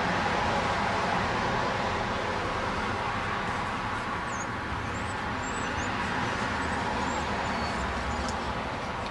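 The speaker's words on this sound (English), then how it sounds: "You might hear a lot of traffic behind me." Steady broadband roar of busy street traffic, continuous and fairly loud throughout, with faint chirps of birds above the wash of passing vehicles.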